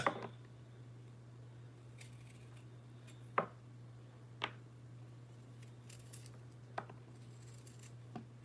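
Knife cutting a piece off fresh ginger, a handful of sharp isolated cuts and clicks spaced seconds apart over a quiet, steady background hum.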